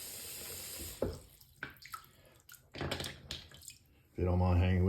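A kitchen tap runs to rinse a Nakayama Asagi Japanese natural sharpening stone used for honing a straight razor: a few splashes and handling knocks, then a strong steady gush of water near the end.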